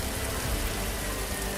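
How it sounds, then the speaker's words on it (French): Heavy rain pours down in a steady, even hiss, with no breaks or voices. "Il commençait à pleuvoir fortement"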